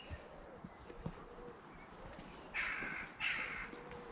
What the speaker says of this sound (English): Carrion crow up there somewhere.